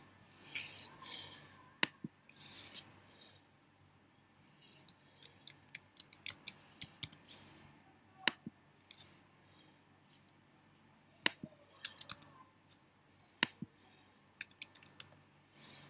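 Sharp, isolated mouse clicks on a smartboard interface, single and doubled taps spaced irregularly across a quiet room, close and fairly crisp with no talking.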